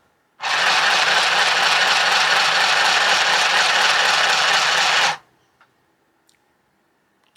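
A small Temu sewing machine stitching fabric, a loud, even mechanical whir that starts abruptly, runs for about five seconds and stops sharply, followed by a few faint clicks.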